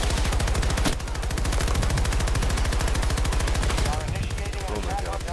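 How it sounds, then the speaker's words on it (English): Automatic weapons fire continuously in a Battlefield 2042 match. The rapid, loud, evenly spaced shots run without a break, and voices can be heard faintly underneath the gunfire. "Bullets aren't hitting him."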